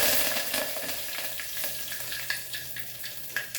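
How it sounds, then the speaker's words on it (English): Curry leaves and asafoetida frying in hot oil for dal fry, a dense, steady sizzle and crackle with a few sharper pops, close up and uninterrupted by speech. "And now it has crackled. I will add my curry leaf."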